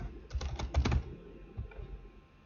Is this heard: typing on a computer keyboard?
yes